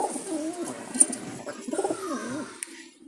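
A young jalali pigeon, not yet breeding, coos in soft, wavering low phrases, repeated several times at close range with light background noise.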